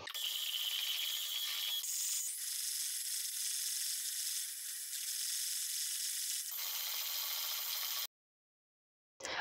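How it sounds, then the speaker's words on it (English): A steady, harsh scraping and whirring runs for about eight seconds as sugar and eggs are mixed together in a bowl for cookies, then cuts out abruptly into silence. "I mix the sugar and the eggs together"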